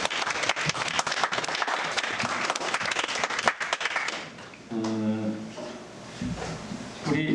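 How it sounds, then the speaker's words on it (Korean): Studio audience applause at a Korean lecture on IoT platforms and artificial intelligence, lively clapping for about four seconds that fades out, followed by someone speaking. "일단 박수 한번 쳐주시고."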